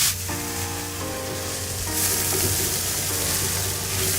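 Paella ingredients sizzling in a pan after turmeric is added, a bright steady frying hiss with some stirring, close and loud without talk.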